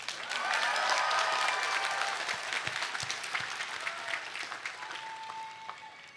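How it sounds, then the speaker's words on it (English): An audience at a university sociology commencement applauds its student speakers, a broad wash of clapping that swells early then gradually thins and fades, with scattered claps and faint crowd murmur toward the end. "can we give another round of applause for our student speakers?"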